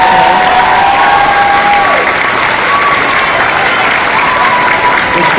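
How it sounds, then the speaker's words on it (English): Loud, sustained applause from an audience at an honor society ceremony honoring its advisors, dense clapping continuing steadily throughout with light crowd noise and faint voices underneath. "receive a very warm round of applause for all of their hard work"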